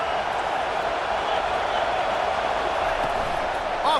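Steady roar of a stadium crowd in College Football 25, a USC versus Oregon game, holding a broad, even wash of noise from start to finish, with a brief sharper burst near the end.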